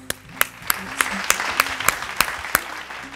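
Audience applause after a Mappila song performance on a music show, a steady wash of clapping with a few sharp louder claps standing out, heard alone without talk.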